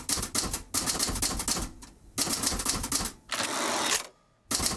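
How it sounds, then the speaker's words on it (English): Rapid clattering keystrokes from a typewriter being typed on at night, dense bursts of strikes broken by short pauses and a final carriage pause, loud and close with no talk. "I'm typing up my recollection of the meeting."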